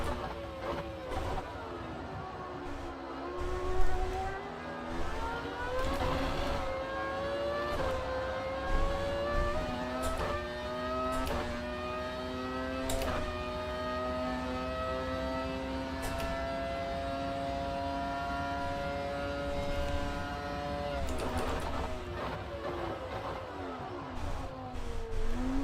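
Race car in Automobilista 2 driving on a dry track, engine revving up through the gears with rising and falling pitch and sharp shift breaks, loud and continuous, with no talk over it.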